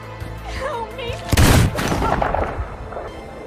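A gunshot in an Indonesian-dubbed cannibal-island thriller film, one loud broadband blast about midway that rings into a busy soundtrack, with music and a voice around it.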